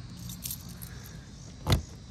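Keys jangle briefly and close by at a generator bay door on a 1973 Travco 270 motorhome, a single short metallic rattle near the end over a quiet background.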